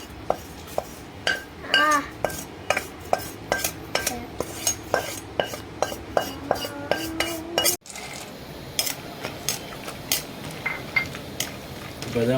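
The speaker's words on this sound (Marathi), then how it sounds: "लाईट ब्राऊन कलर येईपर्यंत खारीक पावडर चांगली मंद आचेवर भाजून घेऊ." A spoon scrapes and clinks rhythmically against a pan while dry date powder roasts on a low flame, close metallic taps repeating steadily, then a softer rustling stir.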